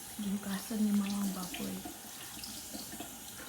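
Tap water runs into a sink while raw pork is washed at home, a steady splashing flow that stays moderately close as someone talks over the first half.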